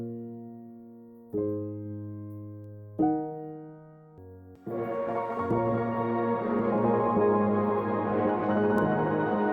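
Dry Streamlabs Soft Piano sample: a few separate soft sustained chords struck one after another, each decaying, then a denser, brighter texture swelling in and holding steady to the end, with no voices.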